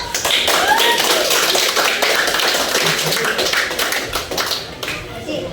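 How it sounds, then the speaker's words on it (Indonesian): Schoolchildren in a classroom clap their hands together in a dense, steady burst that carries on for several seconds, with a few young voices mixed in and the clapping gradually thinning out toward the end. "Tepuk tangan dulu."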